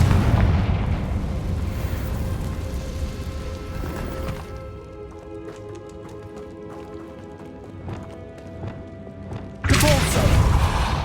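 Fire curse blast in Hogwarts Legacy inside an abandoned cave-in mine: a loud booming burst at the start, rumbling debris settling after, then another explosive hit near the end.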